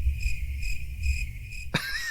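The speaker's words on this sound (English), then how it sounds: "I'm gonna put crickets." A cricket chirps in a steady rhythmic pulse over low background rumble, ending with a sharp click and a rising whistle-like tone.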